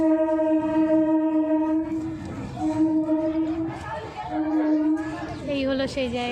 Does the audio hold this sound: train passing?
yes